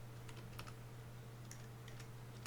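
Keys clatter on a computer keyboard as a search is typed, short quick bursts of tapping over a faint steady electrical hum.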